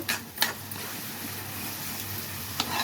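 Onions for a mutton curry are stirred in a pan, with a few sharp scraping clatters of the spoon over a low, steady frying sizzle close by.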